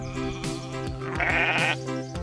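Goat bleating: a few wavering, nasal bleats close by, repeated one after another with short breaks between them.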